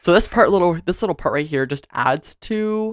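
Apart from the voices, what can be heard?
No distinct noise like a dog, phone or traffic.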